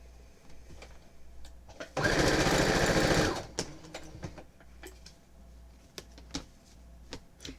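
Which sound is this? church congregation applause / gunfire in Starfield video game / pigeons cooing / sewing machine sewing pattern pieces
sewing machine sewing pattern pieces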